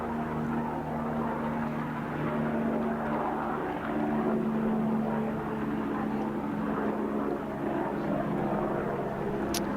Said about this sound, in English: Helicopter passes overhead.